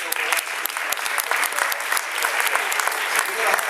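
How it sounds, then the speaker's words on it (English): Town hall audience applauding Donald Payne: dense, loud clapping from a crowd, continuous and close for a few seconds. "we need to applaud him for his efforts"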